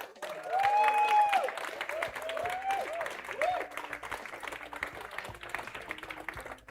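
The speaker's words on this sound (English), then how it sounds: "give him one more big round of applause" An audience at an esports award ceremony claps for a student finalist, a dense round of applause that swells early and thins out gradually, with a voice speaking over it at times.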